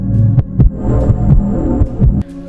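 A heartbeat: slow, deep thumping beats repeat at a steady pulse, heavy and close, with a low hum underneath and no voices.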